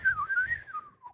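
A person whistles a wavering, sliding melody alone at close range for about a second, with no talking.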